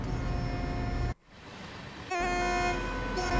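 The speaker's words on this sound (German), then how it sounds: "Ich muss doch hupen." The horn of a DB G6 locomotive sounds in the train simulator game Train Sim World 2. A long steady tonal drone is cut by a short gap, then a strong sustained horn blast returns, loud and close.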